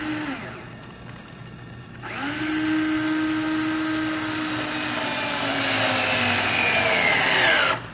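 A power drill drives small screws into the panel of a bartop arcade cabinet kit while mounting the amplifier, a steady whirring motor run that drops out briefly, then returns with a rising whine and holds close and loud.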